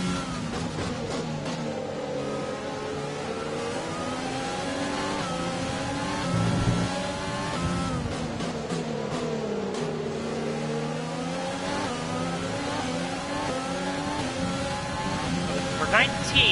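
Race car engine in F1 2020 during a Spain race, a steady high-pitched revving whine with gear-change pitch sweeps running throughout, with a voice talking over it.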